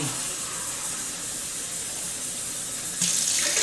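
A tap runs steadily into a container while filling it with water for mixing sugar, a constant hissing rush that grows brighter and louder near the end as the vessel fills.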